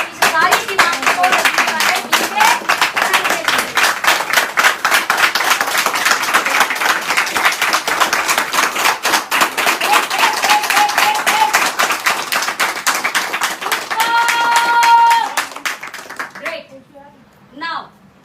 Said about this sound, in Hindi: एक बार जोर से ताली लगाओ।